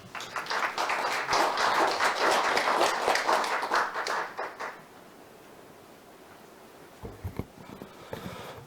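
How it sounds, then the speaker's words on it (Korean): Audience applause at a seminar on aerial firefighting for large wildfires, a steady round of many hands for about four seconds that fades into quiet room tone, with a few faint knocks near the end. "큰 박수로 맞이해주시기 바랍니다."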